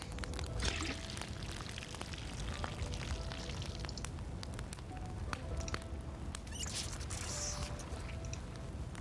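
Water pouring from a well in Project Zomboid, a steady splashing, trickling stream running continuously at moderate level with faint background ambience.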